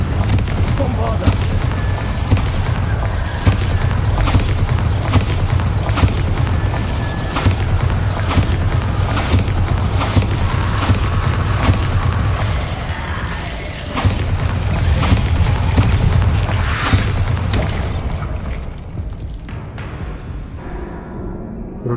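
Bombarda and Confringo spells in the video game Hogwarts Legacy burst in rapid, repeated heavy explosions over a continuous rumbling battle, loud and close, with a short quieter stretch near the end.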